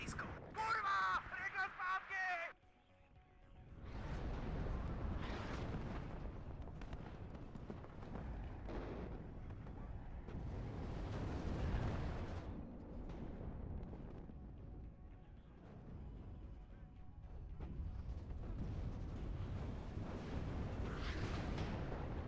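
Artillery fire in the real-time strategy game WARNO, a series of deep booming blasts and rumbling impacts spread across the stretch, with someone talking over and between the shots.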